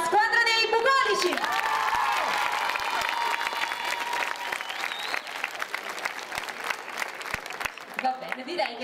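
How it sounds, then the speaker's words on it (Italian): An audience at a costume and fashion show event applauds a competing team with sustained, dense clapping over several seconds, accompanied by some voices and cheering. "L'applauso per la squadra dei bucolici."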